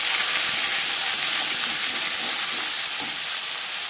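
Panch phoron spices frying in hot oil as ginger and green chilli paste goes in, a dense, steady sizzle and hiss filling the whole stretch, loud and close with no voices.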